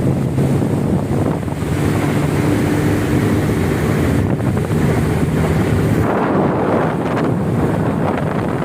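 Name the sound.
choppy water of Mangla Dam with wind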